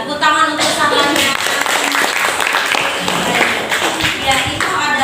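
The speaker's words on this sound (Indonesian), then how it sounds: "tepuk tangan untuk sahabatnya" Classroom applause for a student, a burst of many hands clapping in a room, close and fairly loud, continuing for several seconds with a teacher's voice speaking over it.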